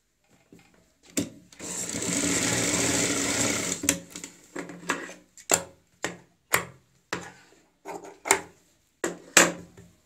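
A sewing machine stitches a folded patch strip onto a kurti neckline, running in one sustained whirring burst before giving way to a series of sharp, spaced clicks and short mechanical taps.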